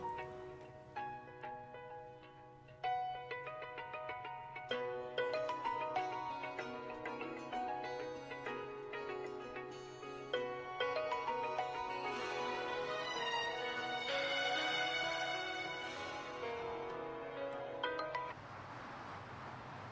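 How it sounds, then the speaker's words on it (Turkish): A phone rings in a domestic scene, a repeating melodic ringtone pattern that plays steadily for about twenty seconds at moderate volume, with no talking over it. "Telefonun çalıyor."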